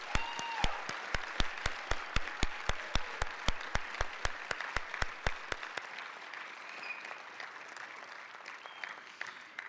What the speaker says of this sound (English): Please join me in a round of applause to show our appreciation to an outstanding sponsor.